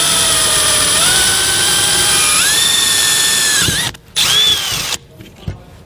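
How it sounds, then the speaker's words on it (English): A power drill with a 1/4-inch bit bores through an RV exterior ladder, a loud close whine that steps up in pitch as it cuts, then cuts off and briefly revs again before stopping. "we're going to use a 1/4-inch drill bit to run straight through our ladder"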